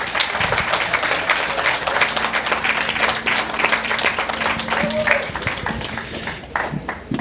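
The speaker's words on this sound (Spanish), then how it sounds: "Un aplauso para mi Toño" Audience applause at a live talk session, a dense, steady wash of many hands clapping that carries on for several seconds at fairly close range, with some voices mixed in.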